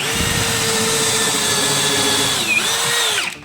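A cordless drill bores into an oak block with a steady, loud motor whine running almost the whole time, dipping briefly near the end as the bit loads up, then cutting off at the close.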